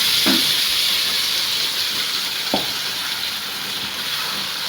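Mango pieces hit a hot iron pan with the flame off while a pickle is being made, producing a steady, close sizzling hiss with a few faint clicks and no talking.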